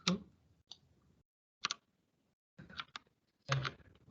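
A computer keyboard being tapped at a desk, a few sparse clicks and short clusters of keystrokes with quiet gaps between, close and soft.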